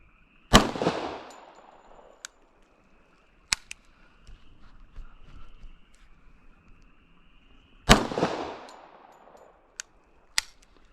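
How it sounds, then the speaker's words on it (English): FNX-45 pistol fired in double action mode, two sharp loud shots several seconds apart, each ringing out with echo, with faint metallic clinks between them. "we're gonna do a couple shots from double action mode first"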